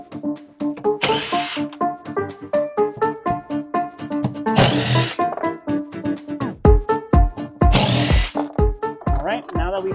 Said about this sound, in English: grab yourself, again, your 10mm socket, and we're going to remove these 4 bolts